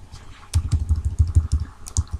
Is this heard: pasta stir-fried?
no